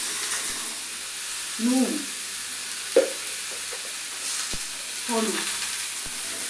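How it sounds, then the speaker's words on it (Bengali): Potatoes and papaya frying in a pan for a Bengali fish-oil chachchari, giving a soft, steady sizzle with occasional stirring clinks and taps, while a voice speaks briefly over it. "আলু আর পেঁপেটা একটু ভেজে নেব।"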